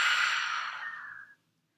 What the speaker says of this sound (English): We're gonna inhale through the nose, expand the belly and exhale mouth.